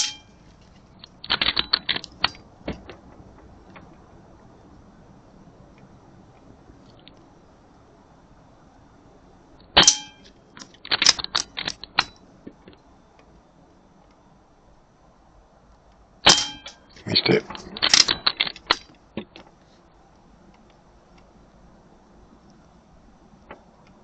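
A Kral NP 03 air rifle fires at a spinning Ferris wheel target, producing three spaced groups of sharp metallic clangs and pings with rattling follow-ups, separated by quiet gaps, close and without talk.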